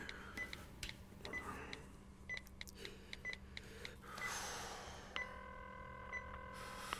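A mobile phone is dialed, giving a quick series of short tones and taps followed by a sustained ringing tone near the end, all fairly quiet and with no talking.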